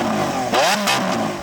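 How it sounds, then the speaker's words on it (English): A Lamborghini Aventador S V12 engine revs hard, climbing sharply in pitch and then falling back over about a second and a half. The roar is loud and close with no talking. "Now let's have a listen to the Aventador S."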